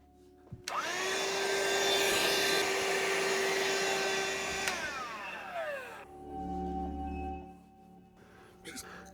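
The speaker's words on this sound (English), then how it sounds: "see if I can remove some of the coffees in here. Let me grab my vacuum." A vacuum cleaner switches on with a loud whine while sucking coffee grounds out of a DF54 grinder, runs steadily for several seconds, then winds down and stops.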